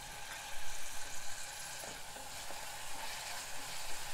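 Onions fry in a pan for a barley kichidi, giving a steady close sizzle with light crackle and a few soft stirring knocks, and no talking.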